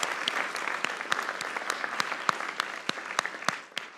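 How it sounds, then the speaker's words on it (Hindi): Studio audience clapping for India's T20 World Cup win, a loose, moderately loud patter of hands with sharp individual claps standing out, fading slightly at the end, with no one talking over it. "इंडिया के लिए तालियां।"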